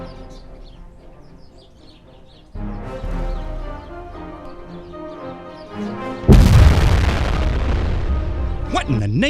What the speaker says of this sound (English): We're being fired on.